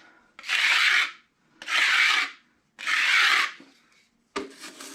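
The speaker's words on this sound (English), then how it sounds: "I'm just gonna chase it, scrape off the excess." Three long, even scraping strokes of a putty knife pulling excess joint compound off a concrete basement wall, each about a second with brief pauses, followed by a short clatter at the end.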